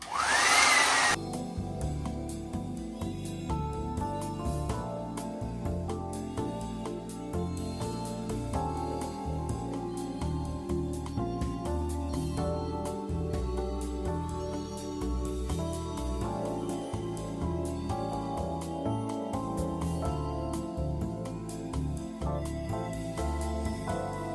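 A Bellissima Italia Diffo hair dryer fitted with a diffuser runs on the middle heat setting at low power, a steady close whooshing drone that continues unbroken throughout after a brief louder start.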